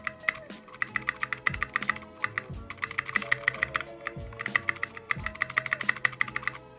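Keys clack in quick clustered bursts on a greased, foam-modded mechanical keyboard, with pauses between runs of close, crisp typing and the occasional deeper thump of stabilized larger keys.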